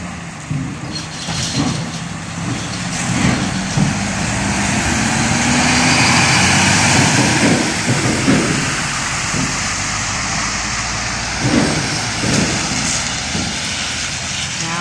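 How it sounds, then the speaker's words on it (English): A big lorry drives off a ferry and down a ramp onto a jetty, its engine a loud, steady rumble that swells toward the middle and then eases, with no talk. "What a big lorry to come off the boat."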